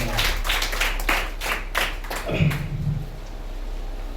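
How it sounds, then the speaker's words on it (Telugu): A congregation in a village church claps at a Sunday prayer service: a burst of loud, slightly uneven hand claps lasting about two seconds, then tapering off into quieter room sound. "గట్టిగా చప్పట్లు గట్టిగా స్తోత్రం కలుగును గాక"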